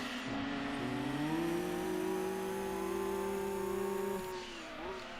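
A Gran Turismo 2 racing car's engine revs steadily, its pitch climbing and holding high before dropping as it shifts near the end, loud and continuous.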